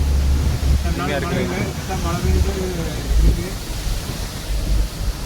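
Steady wind rushes through a cardamom plantation in the hills on the way from Theni toward Kerala, a broad breathy hiss with low gusty buffeting against the microphone, while someone talks briefly over it.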